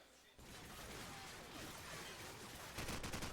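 Rapid AK rifle fire in a Call of Duty 4 competitive match, a dense crackling volley running steadily throughout with a sharper burst near the end, with a commentator talking over it.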